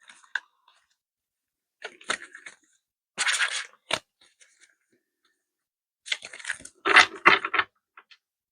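An oracle card deck is shuffled by hand, giving several short close bursts of crisp card riffling and flicking separated by quiet pauses.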